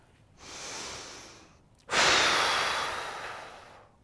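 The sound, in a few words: forceful exhale, big blow out breath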